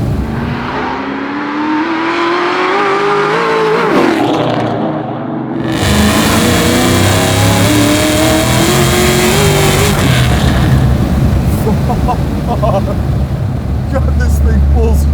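A 1000 HP Whipple-supercharged Terminator Cobra pulls hard, its loud engine note climbing through rising revs, dipping briefly at a shift, then roaring again close up with wind and road rumble.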